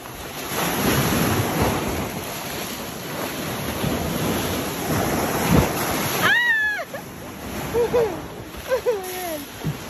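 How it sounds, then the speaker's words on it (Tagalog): High-tide sea waves surge and crash against the shore in a continuous loud wash with wind buffeting the microphone, and a voice speaks briefly near the end. "Ang tubig. Nagwawala na ang tubig."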